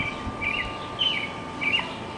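Repeated high chirping calls of a bird thought to be a hawk, outdoors, three short call bursts spaced about half a second apart over a steady background hiss, moderately near.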